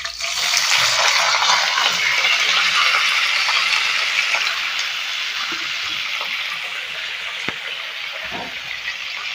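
Raw banana slices go into hot oil with curry leaves and fry, producing a loud, continuous hiss that rises at once and eases slightly as it carries on, with no voices.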